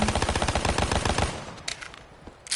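Rapid akimbo gunfire in a video game played with a modded PS4 controller, a loud fast rattling burst of many shots for over a second, then sparse scattered shots and quieter clatter.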